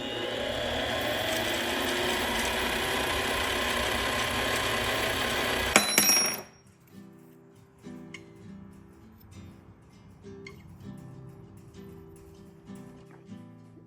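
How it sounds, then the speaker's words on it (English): A coin ring channel is sanded with small hand-held sandpaper strips, probably on a spinning setup, giving a steady loud grinding whir for about six seconds that then stops abruptly and leaves faint scattered clicks and handling noises. "I'll cut these little tiny strips of sandpaper and just hold them in there and"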